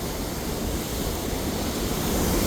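A powerful, steady roar of water rushes over a lake spillway, loud and close, with constant broadband noise and no speech.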